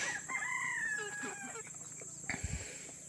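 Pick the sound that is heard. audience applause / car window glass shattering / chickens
chickens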